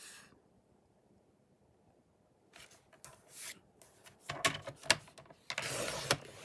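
A paper trimmer slices through cardstock: a near silent stretch, then several quick scraping strokes of the blade with rustling paper, ending in a longer rasping cut.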